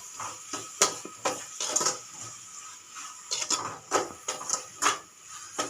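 Turmeric and salt being mixed into batter in a bowl, a spoon scraping and knocking against the bowl in irregular, close clinks and taps, with no talking.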